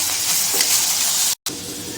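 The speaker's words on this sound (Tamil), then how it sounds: "பெரிய தக்காளி இதுவும் நல்லா வதங்கட்டும்." Large tomatoes sauté in a small amount of oil in a pan, a close, steady hiss and sizzle that runs without letup apart from a brief gap near the end.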